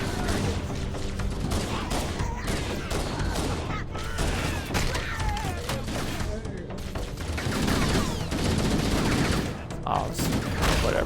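Sustained assault rifle fire and battle noise in a Halo game, dense and continuous throughout with no clear pauses, loud and steady.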